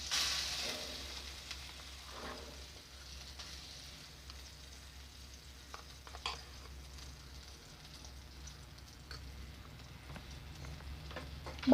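Butter sizzling in a pan for Mumbai-style pav bhaji, a quiet steady frying hiss with a few light clicks and stirring touches, no one speaking.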